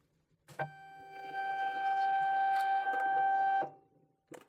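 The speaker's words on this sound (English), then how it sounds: "You see that the printer will take the paper in." A Brother label printer feeds a strip of paper in, giving a steady motorized whir with a tonal hum for about three seconds, framed by short clicks at the start and end, close and clear with no talking.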